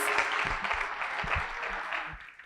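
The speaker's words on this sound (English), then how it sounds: "give him a round of applause." A demo day audience at a health-tech accelerator gives a speaker a round of applause, steady dense clapping from a mid-sized crowd, fairly close, with a few low thumps and murmurs.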